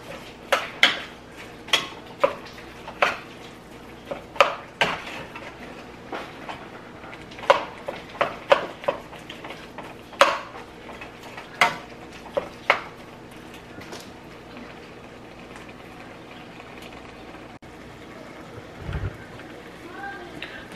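Ground beef is chopped in a pan while cooking, making irregular sharp metallic scrapes and clacks of a utensil against the pan over a soft sizzle, with a voice talking quietly underneath.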